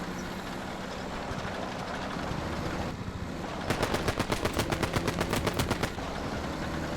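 Rapid automatic gunfire in the World War II video game Finest Hour at the Battle of Arras, a steady burst of sharp repeated shots lasting about two seconds over a low rumbling battlefield background.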